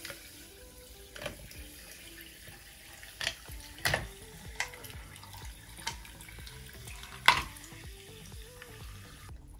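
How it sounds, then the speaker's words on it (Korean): Sparkling water poured into a glass filled with ice to make a yuzu piña colada ade, a soft running splash with a few sharp clinks and fizzes, close and moderately quiet, with no one talking. "얼음을 채웠고, 그럼 탄산수를 한번 부어서 에이드를 만들어 볼게요."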